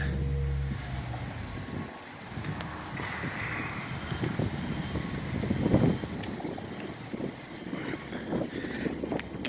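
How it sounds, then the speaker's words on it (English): Blustery outdoor wind rumbles and buffets steadily with low, gusting roars that swell and fade, near and continuous, with no voices. "Blustery day today."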